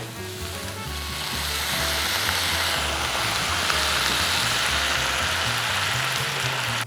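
Apples sizzle steadily in a hot pan with white balsamic vinegar as they reduce over high heat, a dense continuous frying hiss that stays loud and even throughout with no talking.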